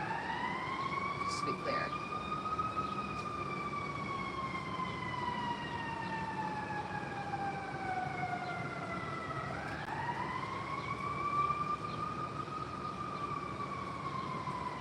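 A wailing emergency siren rises and falls slowly in the distance, sweeping down and back up, while a voice speaks briefly over the steady background hum.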